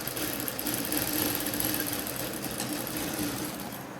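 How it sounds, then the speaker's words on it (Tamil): A sewing machine stitches a length of cloth folded in two, a fast continuous mechanical whirr, close and steady throughout with no talking. "இது போல் நீட்டாக துணி எடுத்து ரெண்டாக மடித்து தையல் போட்டுடணும்."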